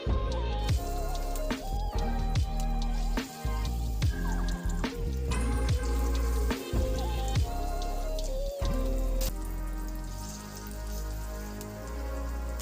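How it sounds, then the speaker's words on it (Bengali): Potato-peel pakoras sizzle and crackle as they are lowered one at a time into hot refined oil, a dense, steady spitting hiss with scattered sharper pops, fairly loud and close, with no talking. "তেলটা গরম হয়ে গেছে, এবার আমি এগুলো এক এক করে তেলের মধ্যে ছেড়ে দিচ্ছি"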